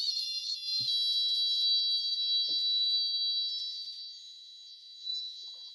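A relaxation oscillator circuit sings a steady, high-pitched electronic tone that holds continuously and shifts slightly in pitch, with a few faint clicks beneath it and no talking.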